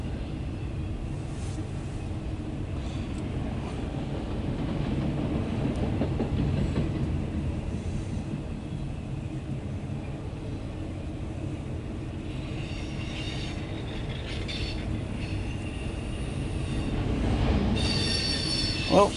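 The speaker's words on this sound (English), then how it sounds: "Well, first train out of the day." A loaded CSX autorack freight train rolls past steadily at night, wheels squealing and rumbling over the rails with occasional clacks, a continuous heavy roar swelling slightly toward the end.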